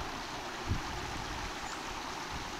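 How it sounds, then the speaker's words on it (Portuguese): Water gushes steadily from a leak at a neglected site in São Paulo, a continuous broadband rushing with no pauses, close and fairly loud. "Água jorrando desse lado aqui também."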